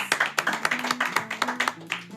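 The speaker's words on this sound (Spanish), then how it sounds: "Un aplauso para ella" A small studio audience claps for a guest lawyer on a legal talk show, giving a short burst of distinct, fairly close handclaps in an uneven rhythm over a faint background voice.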